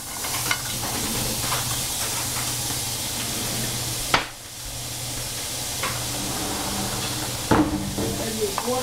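Chopped onion frying in a hot pan with a steady, close sizzle throughout, plus two sharp clatters of a utensil or pan being handled.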